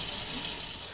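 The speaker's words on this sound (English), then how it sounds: "We're talking about the water that just comes out of the tap." Municipal tap water in Oak Creek, Wisconsin runs from a faucet in a steady, close, hissing stream.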